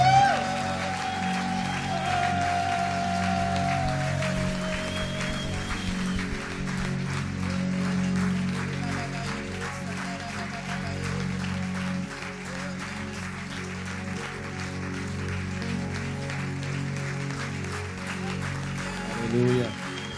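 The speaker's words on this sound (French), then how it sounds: "Est-ce que tu peux acclamer encore bien fort?" A church congregation cheers and applauds loudly throughout a worship service, a steady wash of clapping and crowd voices over sustained music, with talk mixed in.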